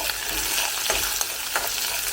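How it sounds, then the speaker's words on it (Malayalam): Green chilies and curry leaves sautéing in a pan alongside onions, a dense continuous sizzle up close with a couple of soft stirring scrapes. "ഇനി പച്ചമുളകൊക്കെ ഒന്ന് ചെറുതായിട്ടൊന്ന് വഴന്ന് വരണം"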